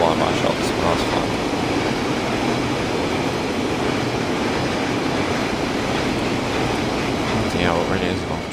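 Long intermodal freight train hauled by a pair of Class 87 electric locomotives on the West Coast Main Line over Shap in Train Sim World 6, a loud steady rumble of wagons rolling past with faint rail clatter throughout.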